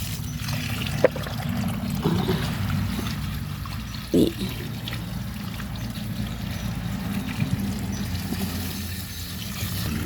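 Running water pours over elephant ear plant offshoots, variegated yellow and white, as they are washed. A steady, close rushing stream plays throughout with a faint splash or knock partway through; no one speaks.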